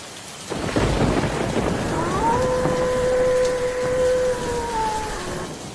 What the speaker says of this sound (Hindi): आसमान में बिजली कड़कती रही और ज़ोर ज़ोर से बारिश पड़ती रही।